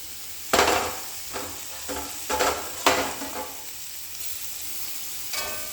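Grated coconut and spices for tomato chutney being sautéed in a pan, a soft sizzle broken by several sharp scraping and stirring strikes of a spoon against the pan, close and irregular.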